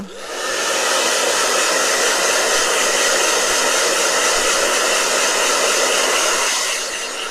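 A blow dryer runs loudly and continuously for several seconds, a steady dense whoosh that starts up quickly and cuts off near the end, with nothing else heard.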